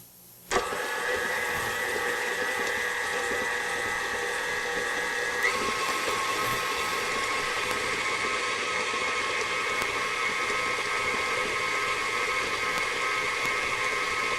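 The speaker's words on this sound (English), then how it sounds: "So we've got our mixer. We're going to put this on medium speed and then increase it to high speed after just a bit." A stand or hand mixer whirs steadily after switching on, run at medium speed and then stepped up to high, beating peanut butter banana cake batter in a bowl; a close, continuous motor drone with a slight pitch rise partway through.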